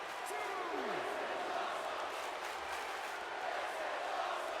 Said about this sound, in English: The crowd chants, "This is awesome,"